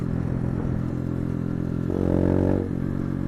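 A Hero 125cc motorcycle being ridden, its engine droning steadily up close with a brief swell of revving about two-thirds through, rattly mechanical clatter underneath.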